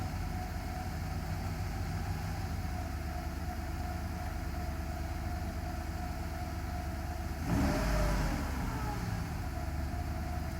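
A Mercedes SL500 with a repaired electronic throttle (E-gas) runs at a steady idle, then a short, louder burst from the engine stands out near the end before it settles back to a constant hum.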